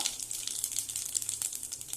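A soft, steady hiss of cumin and asafoetida sizzling in hot oil, faint and continuous with small crackles, heard close with no voices.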